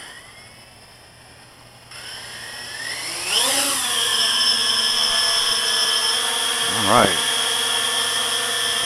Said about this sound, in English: And arm the copter.